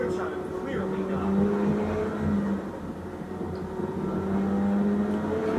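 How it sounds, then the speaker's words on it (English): McLaren 765 on a canyon drive, its turbos winding up with rising whistling tones over a rumbling engine under gentle throttle, with talk inside the cabin. "Turbos, like just hearing them just winding up every time he's like slowly putting his foot on the gas"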